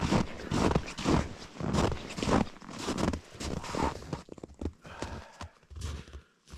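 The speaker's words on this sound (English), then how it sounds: "But you can hear how crunchy the snow is." Boots crunch through dry, cold snow at minus twenty degrees Celsius in windless Ontario woods, a close, steady series of crisp, squeaky crunches that grow sparser toward the end.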